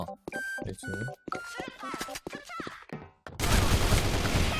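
K2 rifle fire in the online shooter Sudden Attack, a dense burst of rapid shots filling the last second after a stretch of excited talk and quieter in-game noise.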